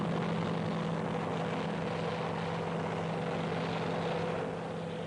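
A Huey helicopter comes in to land amid Vietnam War combat, its dense rotor thrum and turbine roar filling the sound steadily and loudly, close by and unbroken, with no voices.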